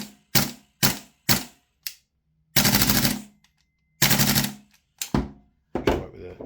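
MWS gas blowback airsoft rifle firing nearby, loud single cracks followed by sharp full-auto bursts separated by silences, ending in a few scattered shots.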